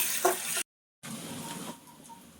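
Ginger garlic paste sizzling in a hot pan for mutton tilli fry, a soft frying hiss with a brief stir, cutting out for a moment and then settling into a quieter, steady sizzle.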